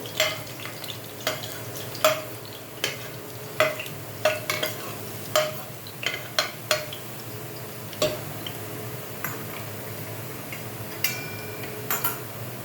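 Garlic and chili are lightly fried in a pan. A soft sizzle runs throughout while a utensil scrapes and taps against the pan at irregular intervals, close up and with no one speaking.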